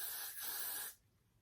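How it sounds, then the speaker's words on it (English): A steady, close hiss of Got2b Glued freeze spray being sprayed onto the part of a closure wig, lasting just under a second before cutting off. "Got to Be Glue free spray on that part."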